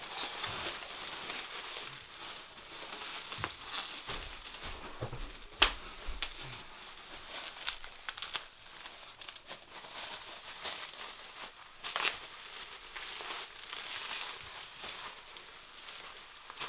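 Bubble wrap is crinkled and handled while glass items are packed for shipping, a soft, faint, ongoing rustle broken by a few sharper crackles, with no talking.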